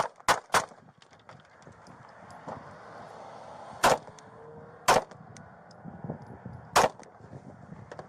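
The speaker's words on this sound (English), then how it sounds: "Shots fired, shots fired." Gunshots in a played video clip, several sharp loud cracks spaced irregularly, a couple close together at the start and three more later, over a low background murmur.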